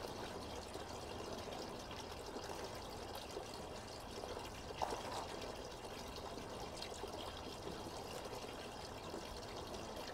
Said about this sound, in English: You can hear the fountain in the background.